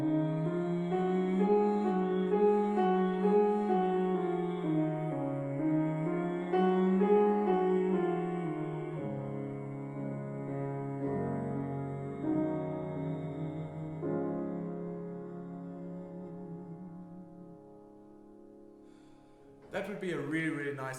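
Sustained vocal warm-up exercise sung for a choir, a long unbroken sung line with stepwise pitch changes and steady breath, held for about twenty seconds before a brief louder sound at the end.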